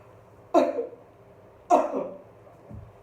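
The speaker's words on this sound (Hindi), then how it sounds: "आज खांसी बहुत हो रही है।" A man with a heavy cough coughs twice, two sharp close coughs about a second apart, each trailing off briefly, followed by a faint throat sound, with no talk.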